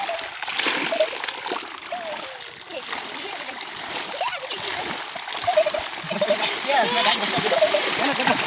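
Rushing water gushing through opened pond dam gates roars steadily with splashing and churning, loud and continuous, while voices talk over it.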